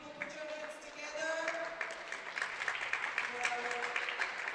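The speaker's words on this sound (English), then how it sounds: "let's give them a big round of applause" Audience applause at a junior men's air pistol final at the European Championships in Osijek, Croatia, a steady wash of clapping throughout, with a voice speaking over it.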